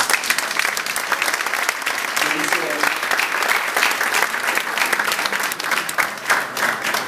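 People at a book presentation in Santa Cruz applaud the illustrator Yampi. The clapping is loud and lively, with sharp individual claps standing out, and it swells and holds for several seconds.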